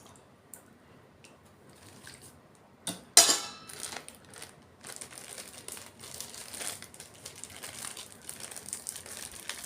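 Plastic bag crinkling and rustling while food portions are packed into it, with scattered light handling noises, one sharp loud crackle, then steady close rustling that continues to the end.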